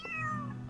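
A cat in a horror video game gives a single short, clear meow with a falling pitch, close and moderately loud, with no talk over it.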